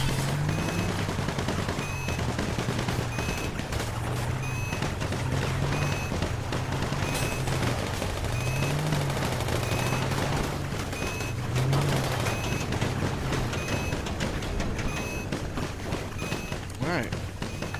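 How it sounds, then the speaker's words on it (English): Gunfire during the Assault on Cayo Perico in GTA V Online, rapid repeated shots crackling over a steady engine drone, with voices talking throughout. "You guys can stop shooting him."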